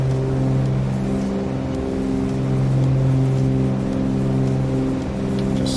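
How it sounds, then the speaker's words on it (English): Steady loud drone of a Cessna 310R twin-engine aircraft in Microsoft Flight Simulator, a constant humming engine tone with strong harmonics and no pauses. "I know the engine noises are loud."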